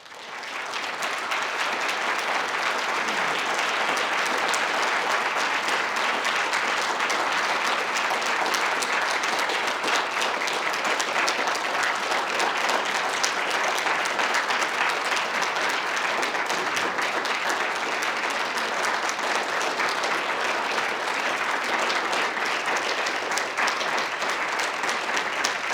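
Sustained, dense applause from a large audience after a chamber music performance, steady and loud throughout without letting up.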